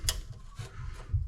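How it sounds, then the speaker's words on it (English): Close, quiet rasping and rubbing of a screw being turned out of a 115-volt, 5-amp power supply casing, in a few short uneven scrapes with small mechanical clicks, no talking. "That's unscrewing."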